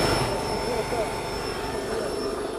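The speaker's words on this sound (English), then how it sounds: "So that roar you can hear is the afterburner." Jet engine afterburner roaring on a scrap-built rail sled, a loud continuous broadband roar with a steady high whine running throughout, close and alone.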